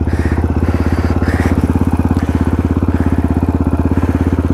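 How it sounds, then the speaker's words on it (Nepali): Motorcycle engine catches and settles into a steady, close, loud idle with a fast even pulsing throb, heard alone without talk. "हाम्रो फेरि बाइक वान ट्याप हो नि त होइन ट्याक्क लगाएर एकचोटिमै स्टार्ट हुन्छ"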